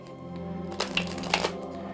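A deck of playing cards is shuffled up close, giving a quick burst of crisp riffling flutters lasting under a second, set against a steady electrical hum.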